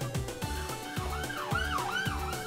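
Wailing siren in World of Warcraft Classic, with rising and falling pitch sweeps over a repeating electronic beat; quiet and brief, like game audio.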